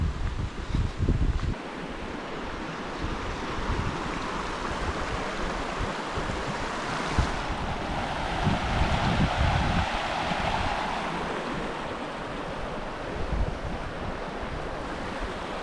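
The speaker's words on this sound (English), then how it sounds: "I think I can get right up close to the river." River in Capitol Reef in the Utah desert, a steady broadband rush of flowing water heard up close and fairly loud, with gusts of wind buffeting the microphone at the start.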